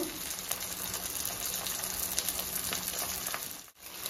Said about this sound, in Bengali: এটাকে ভালো করে নেড়ে নিচ্ছি, আর 4 থেকে 5 মিনিট এটা আমি ভালো করে ভেজে নেব পেঁয়াজের সাথে